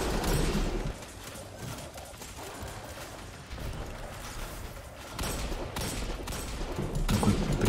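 Repeated revolver shots in a video game, a few loud cracking reports spaced over several seconds amid busy in-game noise, with no voices.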